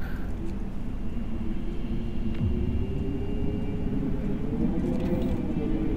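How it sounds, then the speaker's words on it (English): A brutal snowstorm in the video game Frostpunk howls as a loud, continuous low roar of wind that swells slightly and never lets up, heard alone without talk. "This storm is just brutal."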